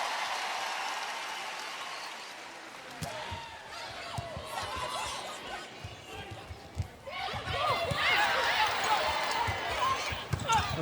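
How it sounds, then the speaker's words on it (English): Nebraska Cornhusker fans at an NCAA women's volleyball match cheering and applauding in an arena, the clapping swelling into a louder, sustained ovation toward the end while a commentator talks. "you hear the Cornhusker fans cheering for Bosiger."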